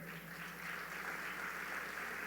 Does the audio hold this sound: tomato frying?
no